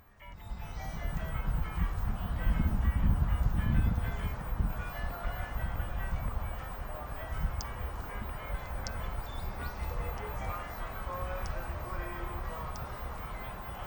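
Super Mario video game music playing outdoors at a Christmas light display in Lafreniere Park, a bright chiptune melody carrying steadily over crowd murmur and people talking nearby.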